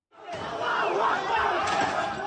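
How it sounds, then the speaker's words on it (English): A crowd of hundreds storms the main airport in Dagestan, a loud, dense roar of shouting men and chatter rising suddenly and holding steady up close. "A crowd of hundreds breached the defences of Dagestan's main airport."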